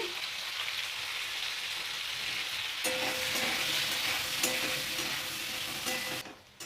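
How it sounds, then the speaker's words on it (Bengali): Cut cucumber with salt and turmeric frying in a pan. A steady, fairly loud sizzle with light crackles runs throughout and fades at the very end, with no talking. "পাঁচ মিনিট শশাটাকে খুব ভালোভাবে আমি নাড়াচাড়া করে নিয়েছি"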